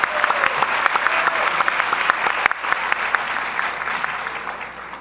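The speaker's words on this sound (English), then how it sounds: "Let's give him a big round of applause." An audience at an Amway business talk clapping steadily, dense and sustained, easing off slightly toward the end.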